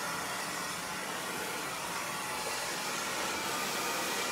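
Hair dryer running steadily at close range on a section of long layered hair, a constant broadband whoosh with no pauses and no voices.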